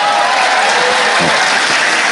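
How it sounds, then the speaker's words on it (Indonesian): Applause from an audience at a Javanese Islamic sermon by KH Anwar Zahid comes as a brief, dense wash of clapping at a steady, loud level. "Mbok gak tepuk tangan no."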